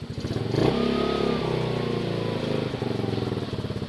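A recently rebuilt 150cc scooter engine runs close by with a steady, rattly putter, swelling briefly near the start before settling into an even idle.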